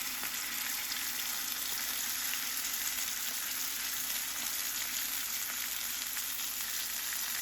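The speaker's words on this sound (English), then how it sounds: "oh, listen to that sizzle." A sirloin steak's fat cap sizzles in a hot pan, giving a steady, crackling hiss that runs unbroken and close up, with no talking over it.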